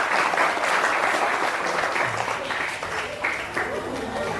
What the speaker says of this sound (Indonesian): Kita beri tepuk tangan untuk Sungai Ulu.